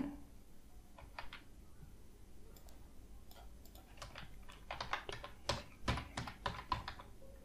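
Someone typing on a computer keyboard in MS Word, sparse keystrokes at first, then a faster burst of crisp clicks near the end, close and quiet with no talk.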